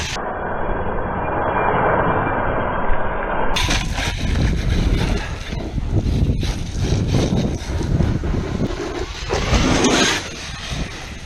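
Traxxas X-Maxx 8S RC monster truck running on a power upgrade setup, a dense, loud roar of motor and tire noise with heavy wind buffeting across the mic, steady throughout with a brief lift near the end.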